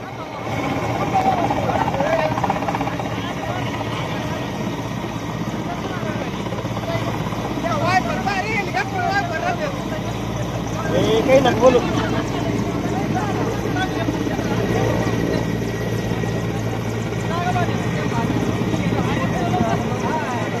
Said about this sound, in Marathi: पुरात अडकलेल्या नागरिकांची हेलिकॉप्टरच्या मदतीने सुटका केली जाते।